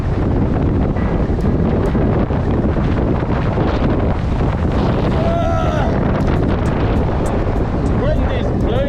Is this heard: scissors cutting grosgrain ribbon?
no